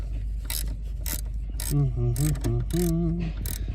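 Battery hold-down bolt being tightened on a 2021 Jeep Grand Cherokee, a series of sharp ratchet clicks in quick bursts, close by, with faint tonal sounds in between.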